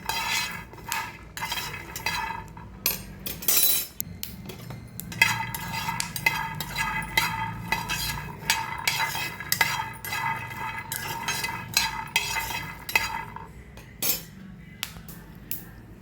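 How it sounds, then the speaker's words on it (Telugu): Skin-on peanuts dry-roast in a pan, rattling and scraping in bursts as a spoon stirs them, with clinks of metal and short pauses between strokes. "ఇంకా వేగాలి కొంచెం చిట్పట అంటూ ఉంటాయి"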